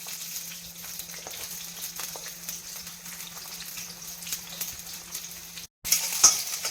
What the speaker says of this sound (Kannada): ಆದಮೇಲೆ ಮೆಣಸಿನ್ಕಾಯಿ ಹಾಕಿ, ನೆಕ್ಸ್ಟ್ ಈರುಳ್ಳಿ ಸೇರಿಸಿ,